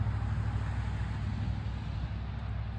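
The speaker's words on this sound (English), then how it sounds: "I know damn well it's gonna be so loud with these cars" Car traffic on a road gives a steady low rumble and wind-blown roar throughout, close and constant, with no single vehicle standing out.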